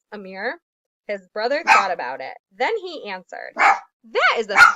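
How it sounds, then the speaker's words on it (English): A dog barks indoors during a children's story reading, with loud sharp barks and yips mixed in and overlapping a person's steady narration. "sorry about my dog interrupting us there at the end"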